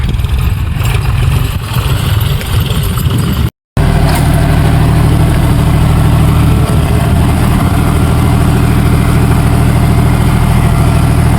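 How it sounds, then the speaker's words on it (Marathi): A loud, steady diesel tractor engine rumbling nearby at a constant idle during chickpea sowing with a seed drill, with a brief cut in the sound early on. "आता ट्रॅक्टर यायला इकडं"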